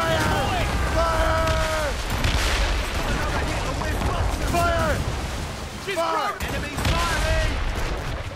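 Ship cannons fire in a naval battle in Assassin's Creed Rogue Remastered, loud rolling volleys of booms and crackle running throughout, under voices shouting over the gunfire.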